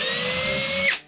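A power drill bores a 3.5mm pilot hole through wood on a workbench, one close, loud, steady high whine lasting about a second before spinning down.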